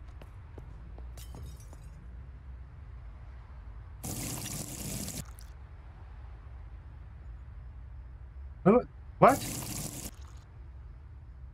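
Water runs into a glass in a pub simulation video game: a short, gushing pour over quiet background, then a second brief splash near the end, with a voice speaking briefly in between.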